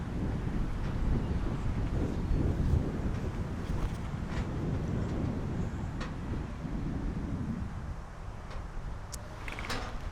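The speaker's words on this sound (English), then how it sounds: "this wind is pretty bad" Strong gusting wind buffets the microphone outdoors at a disc golf course, a heavy, steady low roar with a few faint clicks and ticks scattered through it, and no voices.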